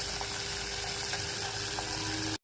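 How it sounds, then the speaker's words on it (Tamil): Garlic frying in oil in a pan while making vatha kulambu, a steady, dense sizzle that holds evenly at close range with no talking, then cuts off abruptly at the end. "பூண்டு கொஞ்சம் நல்லா ஃப்ரை ஆகட்டும்."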